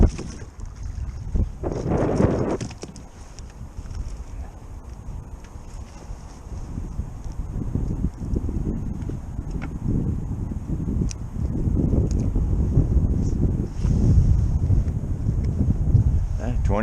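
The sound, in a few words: wind blowing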